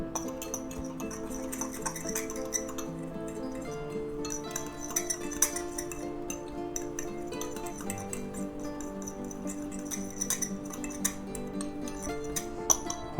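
Rosemary, thyme and smoked paprika are stirred together in a small bowl. A spoon gives a steady stream of light clinks and taps against the dish, soft and close, with no talking.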